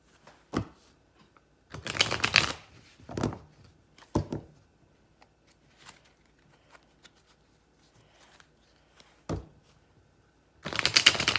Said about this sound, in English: I'm going to go ahead and shuffle here.